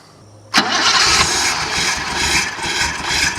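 A 1980 BMW 528i being revived cranks and fires with a sudden burst, then settles into a loud, close, slightly uneven idle with a rough rhythmic pulse.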